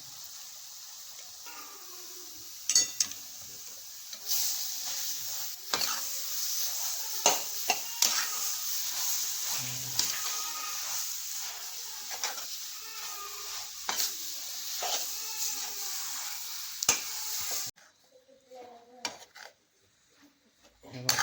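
Young bamboo shoots fry in a pan with a soft, continuous sizzle, while repeated clinks and scrapes of a spoon against the pan mark the stirring and a voice speaks now and then.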